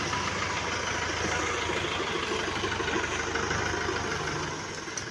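Steady low rumble of a tractor engine idling nearby, constant throughout and easing slightly toward the end.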